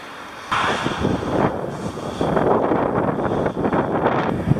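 Strong headwind buffets the microphone on a bicycle ride through the Netherlands, with loud gusty rumbling that rises and falls in bursts and no speech over it.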